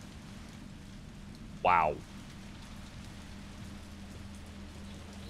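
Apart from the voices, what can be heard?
rain in video game Resident Evil 3 Remake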